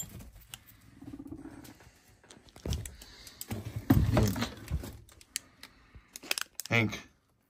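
Guinea pigs scurrying and pattering nearby, with scattered rustles and light scratching, brief voice-like sounds mixed in.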